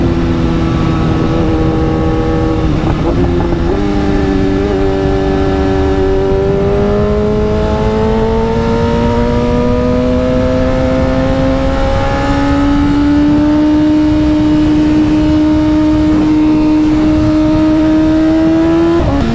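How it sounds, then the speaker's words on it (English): A loud engine revs continuously close by, its pitch climbing steadily in long sweeps with a harsh, buzzing roar and no talking. "this bike sounds absolutely insane"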